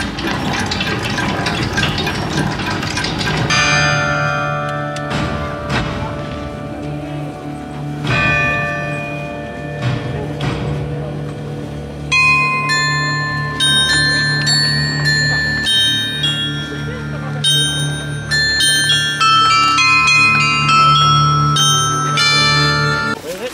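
The bells of the Grand Carillon show at Puy du Fou ring out loud and close, with overlapping chimes layered into melodic runs and a bright cascade of tones over a sustained resonant hum.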